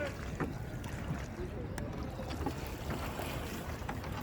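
A boat ride at Triveni Sangam, the river confluence at Prayagraj, brings a steady wash of water and wind around the hull, fairly close and moderate in level, with brief voices.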